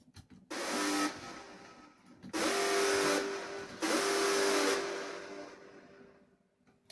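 A harsh, buzzy hardstyle synth screech from a track plays in three sustained bursts, loud and gritty with a steady pitched tone, fading out at the end.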